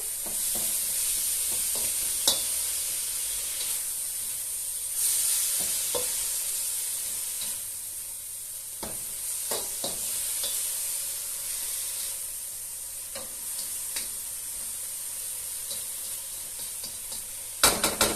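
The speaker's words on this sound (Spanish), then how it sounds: "Vamos a mezclar un poquito." Food stirred in a frying pan, giving a steady sizzle and hiss with scattered scraping taps of a utensil against the pan, close and continuous with no talking.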